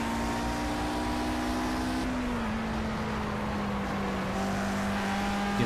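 High-pitched engine of a 1960s Formula One race car in Project CARS, racing against a McLaren and Lotus at Rouen-Les Essarts, holds a steady whine that dips slightly as it lifts for a corner, loud and continuous throughout.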